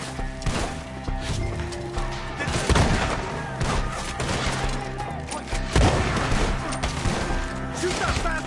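Shootout in Red Dead Redemption 2, with dense, continuous gunfire: repeated sharp rifle and pistol cracks overlapping throughout, under shouted voices and game action sounds.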